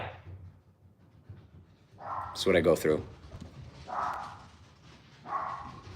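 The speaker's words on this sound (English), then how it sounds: "And my dogs are going crazy." Dogs bark and whimper in short bursts, several yelping outbursts close by, mixed in among a person talking indoors.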